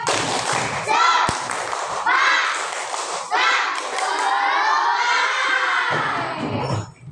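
A class of children in an Indonesian school lesson joins a teacher-led group clapping cheer, loud shouting and chanting voices over rhythmic claps and thumps in bursts.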